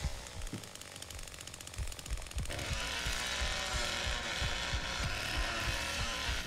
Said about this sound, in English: I can now instantly starting my chainsaw.